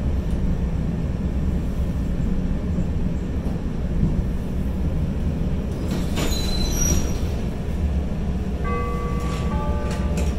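A Chicago L Orange Line train rumbles along steadily at close range, with wheel squeals and a brief chime appearing late in the run.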